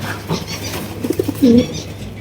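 Pigeons at a seller's stall give a few short low coos near the end, over a steady low hum and faint background noise.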